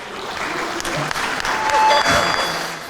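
Audience applause at a live comedy concert, a burst of clapping that swells and holds steady for a few seconds with a faint whistle over it.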